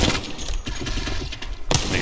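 Bursts of gunfire from the video game Apex Legends, hip-fire then aimed shots against practice bots, loud and dense for about two seconds with a short pause before a final burst.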